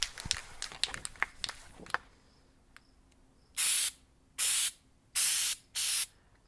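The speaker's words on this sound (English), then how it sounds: "I'm going to recoat this fabric and hopefully shore up these edges with this rubberized coating" A can of rubberized coating sprays onto faux leather fabric in four loud hissing bursts, each about half a second long. Softer clicks and handling noises come first.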